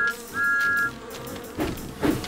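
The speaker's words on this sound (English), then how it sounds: "The bees were still buzzing, but Thomas didn't mind." A cartoon buzzing of bees near a flowerbed, in a children's animated train story, with a few short buzzes rising and fading over light background sound.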